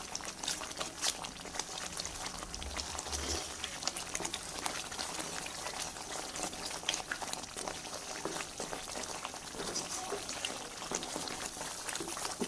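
Masala fries in oil in a pan with a quiet, steady bubbling sizzle that crackles faintly and continuously. No one speaks.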